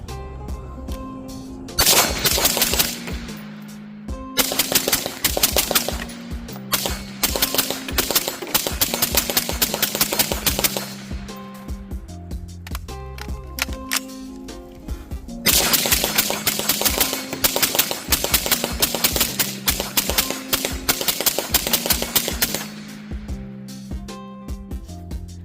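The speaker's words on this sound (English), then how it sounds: "Might as well get you guys a nice little 2 mag burn down view of this ammunition." A suppressed 7.62 rifle fitted with an FCD/Revival Defense 3 Prong flash hider and an Otter Creek Labs Infinity suppressor fires two magazines in long rapid strings of shots, with a pause between bursts, loud and close outdoors.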